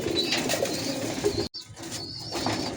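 A female pigeon coos in short soft bursts close by, with a steady bed of other pigeon calls and light rustling; a brief near-silent gap breaks the sound midway.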